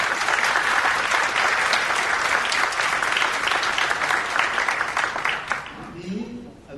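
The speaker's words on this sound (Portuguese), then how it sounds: "a quem eu peço uma salva de palmas por toda a dedicação" Audience applause at a cultural event at a film archive library, a dense steady wash of clapping that fades out near the end as a voice begins speaking.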